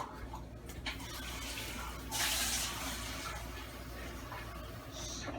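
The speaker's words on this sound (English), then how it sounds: "Add about a half a cup of water to it." About half a cup of water poured into a pot of homemade spaghetti sauce, a soft steady splashing stream that swells briefly to a brighter gush midway before settling.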